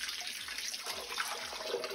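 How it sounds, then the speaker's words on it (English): Raw chicken pieces are rinsed under a running kitchen tap, a steady close splash of water with soft irregular sloshes and drips as the meat is handled, heard alone without talk. "I finished cleaning my chicken, and I'm giving it the last washing"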